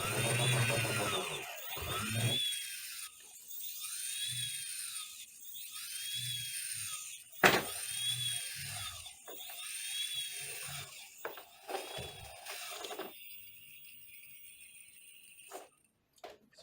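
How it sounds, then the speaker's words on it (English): A hobby brushless motor spinning up in repeated high-pitched whining bursts with rising and falling tones, cutting off between runs, fairly close and with no talking. "So I'm going to be using my mass hobby brushless motor to do some tests."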